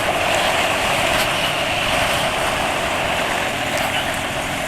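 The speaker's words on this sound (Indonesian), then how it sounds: "kalau suara mesin nggak bisa dibilang kasar kalau dalam keadaan seperti ini" A motorcycle engine running on Motul GP Matic 10W40 oil, a loud, steady idle hum with even, unbroken engine noise close by and no voices.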